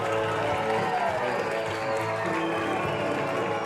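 A home crowd at a high school football game roars and applauds steadily as the Piper Pirates run onto the field, a dense, continuous wash of cheering.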